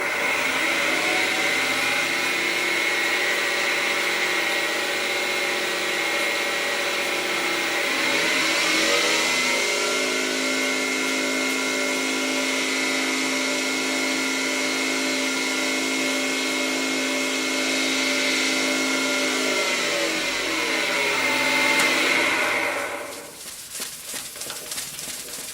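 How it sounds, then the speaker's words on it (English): A wood lathe spins at high RPM while a slimline pen is buffed, giving a loud, steady whine with strong tonal harmonics that shifts pitch partway through and drops off near the end. "we're probably safe to crank the RPM now and do a little buffing"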